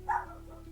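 A single short, faint bark from a pet dog, distant and quick, over a low steady background hum.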